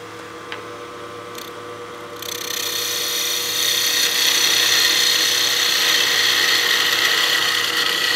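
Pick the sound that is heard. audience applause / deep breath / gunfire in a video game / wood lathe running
wood lathe running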